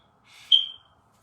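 A single short, high electronic chirp from a smoke detector, clear and isolated against near silence.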